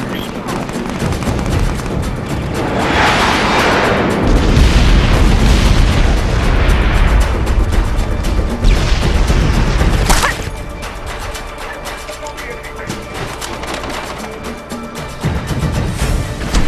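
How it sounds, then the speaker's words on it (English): Airstrike explosions roar in the Socom 4 U.S. Navy Seals multiplayer game on PS3, a loud, sustained rumble of booming blasts that swells and then drops off sharply midway, leaving quieter battle noise. "Airstrike inbound."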